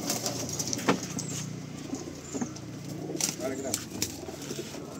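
Pigeons coo in a loft in a low, murmuring chorus with scattered wing flutters and bumps, while people talk nearby.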